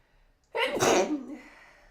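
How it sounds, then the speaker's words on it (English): A single loud sneeze close to the microphone, a quick sharp intake followed by a forceful burst, then quiet breathing. "I'm gonna sneeze again"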